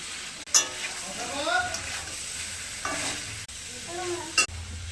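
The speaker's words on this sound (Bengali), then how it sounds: "পেস্টটা দিয়ে দিলাম, টমেটো পেস্টটা বেশি দিয়েছি, কপিগুলো দিয়ে দিলাম, এর সাথে ধনে জিরে মৌরি" Cauliflower florets frying in a pan with a heavy tomato and spice paste, coriander, cumin and fennel: a close, continuous sizzle with repeated stirring scrapes and brief louder clinks, and a faint voice in the background.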